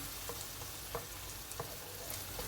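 Grated tomatoes sizzle quietly in a pan while being stirred, a faint continuous frying hiss broken by a few soft scrapes and taps of the spoon, with no voices.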